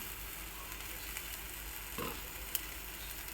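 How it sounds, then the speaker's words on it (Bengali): Ground coriander, cumin, chili powder, turmeric and salt sizzle in oil in a kadai after tomato paste, giving a soft, steady hiss with a faint stir or scrape, quiet and without talk. "এবার আমি কড়াইয়ের মধ্যে দেবো ধনে জিরে লঙ্কা গুঁড়ো হলুদ গুঁড়ো আর নুন"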